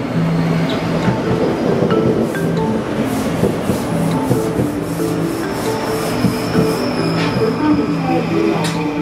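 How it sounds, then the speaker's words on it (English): Hong Kong subway train running steadily, with continuous rumbling and rubbing rail noise filling the carriage, faint voices mixed underneath. "On the Hong Kong subway"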